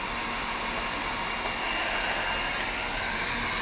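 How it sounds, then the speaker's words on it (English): A heat gun blows hot air to shrink heat shrink tubing, giving a steady, loud, close-up whooshing roar like a hair dryer that holds constant for a few seconds. "Do you want to heat shrink them?"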